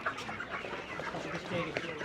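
Desi chickens cluck and murmur in a busy city poultry market with ducks nearby, a dense, close jumble of bird calls under steady crowd noise.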